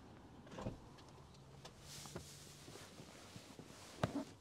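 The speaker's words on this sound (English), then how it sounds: "Power close and no lock feature on the tailgate." Power tailgate on a 2023 Range Rover Sport closing on its own, a faint, steady motor whir with a soft thud near the start and a sharper latch click near the end, heard from close by with no talking.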